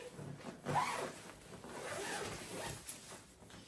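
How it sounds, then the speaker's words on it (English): A zipper runs along a fabric storage case for an infrared sauna blanket, several quiet drawn-out zips with short pauses, close and alone. "you can just fold it up and zip it back up in here"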